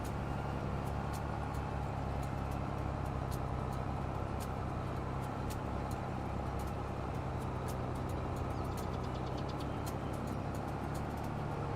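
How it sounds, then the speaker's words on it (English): A tractor engine runs in a PC farming game set in Gnadenthal, giving a steady, continuous drone with a dense low rumble and an even loudness throughout, with no speech. "Man, I like this tractor."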